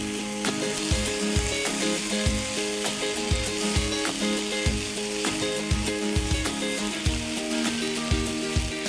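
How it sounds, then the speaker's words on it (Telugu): Tomatoes frying in an oiled pan, a dense, loud crackling sizzle that runs throughout with regular tapping knocks of a spatula stirring, close by and with no talking. "లెట్స్ యాడ్ టమాటోస్ని ఫస్ట్ బాగా ఫ్రై చేసుకోవాలి"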